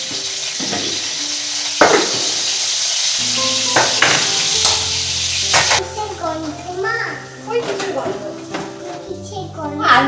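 Food sizzles on a hot tawa in a home kitchen where potatoes are being fried. The frying crackles under children's chatter and the clink of pans.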